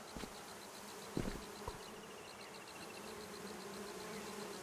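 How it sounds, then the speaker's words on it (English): Bees buzz in the puzzle video game Viewfinder, a faint continuous insect drone with a few soft knocks early on and no voices. "I hear bees."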